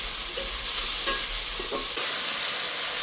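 Ginger and garlic paste frying in oil in a pan, stirred with a spatula: a continuous loud hiss of sizzling with soft scraping strokes and a few light knocks, no voices.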